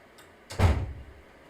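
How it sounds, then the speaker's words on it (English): A single door swings shut with a solid thud, a short muffled impact in an otherwise quiet room. "I'll just close the door."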